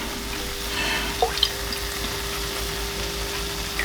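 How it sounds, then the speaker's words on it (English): Tap water running into a pan of tomato sauce while cooking spaghetti and meatballs: a steady, close wash of flowing water with a few small drips and splashes, heard alone. "What I like to do is usually run a little bit of water."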